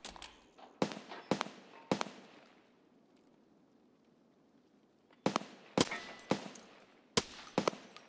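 Distant gunfire in Escape from Tarkov comes as sharp isolated shots and short bursts, separated by several seconds of quiet. It is faint and far off, with no talk over it.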